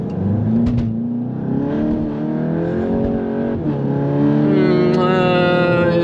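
A VW Golf 8 GTI Clubsport accelerates hard on the Nürburgring, its engine note climbing through rising revs with a gear change midway, heard from inside the car with a brief voice underneath.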